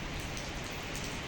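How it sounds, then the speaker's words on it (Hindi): Heavy rain pours steadily on surfaces all around a home in Delhi, a dense, continuous hiss with no voices and no breaks. "चारों तरफ बिल्कुल इतनी तगड़ी बारिश हो रही है"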